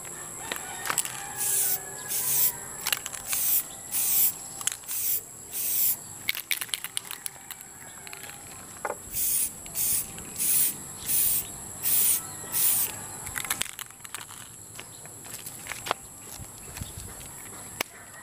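Samurai spray paint hisses from a can in repeated short bursts of about a second each, some twenty in a row with brief gaps, fairly close, during a DIY glossy-to-matte repaint outdoors, with scattered knocks and handling noises between.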